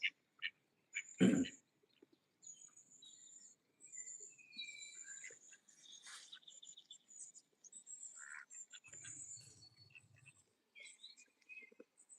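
Ducks by a jetty make soft quacks, chatters and scattered high squeaks, with a brief louder splash or flap early on and quiet gaps between calls.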